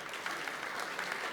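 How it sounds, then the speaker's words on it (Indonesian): Sustained applause from a church congregation at a Pentecostal Sunday service in Gorontalo, with many hands clapping densely and evenly at a steady, fairly loud level throughout. "Kita beri tepuk tangan setengah menit sampai 1 menit."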